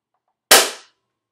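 A single sharp snap of an empty Nerf Rival Apollo XV-700 blaster dry firing, a bright crack with a short fading rattle, loud and close, alone in silence.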